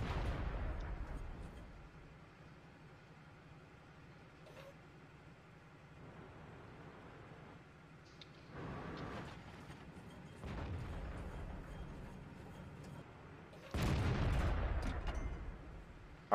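Tank gunfire in a World of Tanks clan battle on the Siegfried Line map, with several muffled booms rolling out over low rumbling game ambience, the loudest burst near the end.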